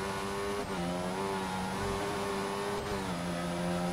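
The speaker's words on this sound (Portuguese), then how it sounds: "Vou forçar um pouco mais o meu motor aqui" A Formula 1 car engine in the racing game F1 2014 screams at high revs, holding a sustained whine with two brief dips as the gears shift, loud and alone.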